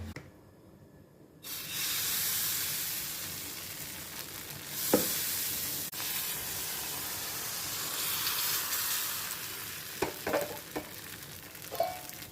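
Appam batter sizzles steadily in a hot pan, a broad continuous hiss that rises after a quiet first second and holds throughout, broken by a few faint clicks and taps of utensils.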